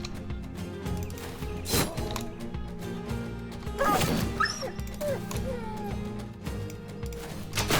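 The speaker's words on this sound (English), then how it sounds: "The dog dying sound is so sad." A dog dying sound effect in a video game plays amid busy game audio, with a short yelp and whimpering cries rising above steady background noise and music. Nobody speaks.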